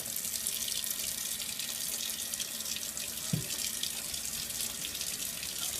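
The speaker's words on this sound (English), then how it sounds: "So next up, we're going to drain the pinto beans." Canned pinto beans are drained at a kitchen sink, giving a constant close hiss of running water with one brief low clunk partway through and no voices.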